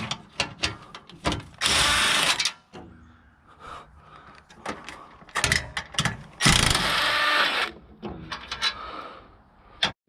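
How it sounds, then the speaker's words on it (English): Bolts being removed from the front end of a wrecked salvage 2010 Nissan Rogue: a fast run of metallic ratchet clicks and sharp clanks, with two sustained, loud bursts of tool noise, all close and without talk. "So now I need to go ahead and actually pull these bolts out."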